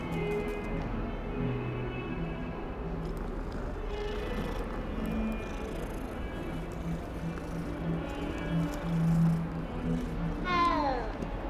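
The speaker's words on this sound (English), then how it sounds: "There's another cat." A cat in the video game Hogwarts Legacy meows repeatedly over a soft ambient game background, with a louder, rising meow near the end.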